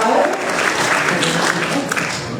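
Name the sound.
audience applause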